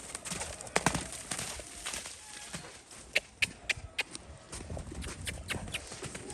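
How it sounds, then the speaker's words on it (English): A horse cross cantering on the wrong lead behind, its hoofbeats thudding in an irregular rolling rhythm on an arena surface, moderately close with outdoor ambience. "Wrong lead behind, so he's cross cantering."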